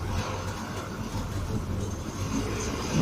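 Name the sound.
TSRTC bus passing by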